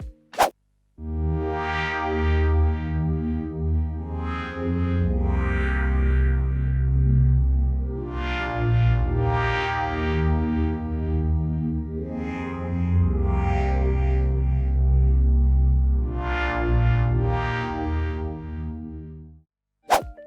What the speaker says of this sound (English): Pairing the manual tone changes with a heavy delay can make for an extremely tactile effect.